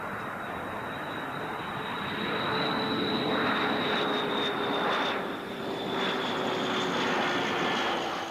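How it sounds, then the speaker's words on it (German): A propeller airplane's engine drones steadily as it arrives at Agadez airport during a 1986 desert rally, a droning hum that swells louder midway with a steady whine on top. "35 Flugzeuge sind angemeldet."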